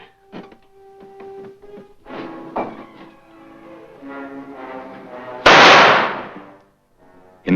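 A festival firecracker bursts with one loud, sharp bang and a crackling tail, following a stretch of mixed tonal sounds and clatter, with a second abrupt pop at the very end.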